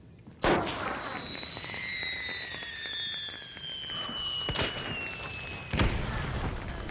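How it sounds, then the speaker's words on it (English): An alert mine in the video game Hunt: Showdown goes off with a loud sudden burst followed by a sustained high whistling ring, with further sharp bangs and thuds punctuating the game's ambient noise. "Because the alert mine is so loud."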